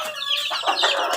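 Several chickens and roosters cluck close by in a backyard flock of Asil gamefowl, a quick burst of short, overlapping squawks with no talking.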